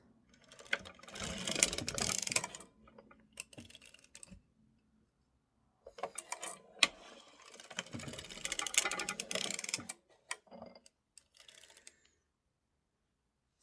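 A circular sock knitting machine being adjusted and cranked, giving bursts of clattering mechanical clicks and ratcheting separated by quiet pauses while the heel weights are repositioned.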